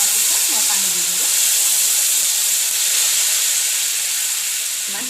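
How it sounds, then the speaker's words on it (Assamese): Taro frying in a pan for fish curry, hissing and sizzling loudly and steadily after water hits the hot oil, a constant close steam roar with faint voice hints underneath. "অকণমান ভাজা হোৱাৰ পিছত মই পানী দি দিলোঁ"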